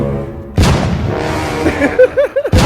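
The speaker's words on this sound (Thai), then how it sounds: "ลุยเลยระเบิดเลย" A deep, heavy boom erupts suddenly from a video game, followed by sustained rumbling and a few quick popping bursts near the end.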